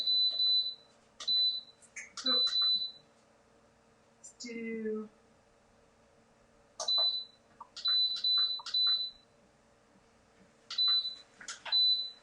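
Electronic beeps from an air fryer timer being set: repeated short, bright beeps in quick bursts, some in pairs and triples, close by, with brief speech in between.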